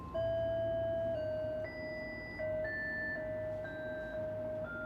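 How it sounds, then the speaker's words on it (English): A mono Plots voice on a modular synth runs through a Strymon Big Sky reverb, playing a soft melodic line of sustained electronic tones whose notes blur and hang into a smooth wash, with no talking. "And then if we add the Strymon Big Sky reverb"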